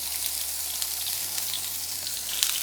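Roma tomato and onion frying in hot oil in a pan for mole poblano, a steady hissing sizzle with faint crackles, close up and without talk.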